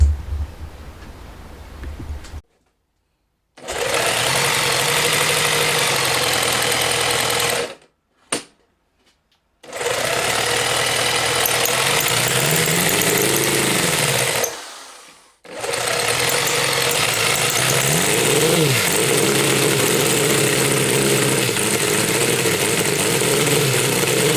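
A Honda Monkey-based four-cylinder CD125 engine fires up on a bench, running in a loud, steady buzzing idle with a few abrupt cut-outs and restarts, revving and settling between runs.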